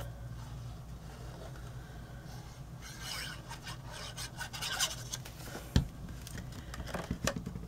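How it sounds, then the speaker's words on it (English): A bone folder presses down the flap of a paper Easter treat box, giving soft close rubbing and scraping strokes that grow busier midway, with one sharp tap near the end and no voices. "And then I'm just going to push it down with my bone folder."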